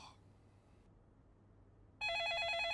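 After a quiet stretch, an electronic telephone ring starts suddenly, loud and close, with a steady warbling trill.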